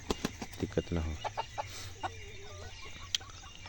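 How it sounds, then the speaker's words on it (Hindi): Kadaknath chickens on a free-range farm cluck in a quick string of short, soft calls, with a brief trilling note partway through over light background noise. "कुछ मुर्गियां हमारे फार्म के अंदर हैं।"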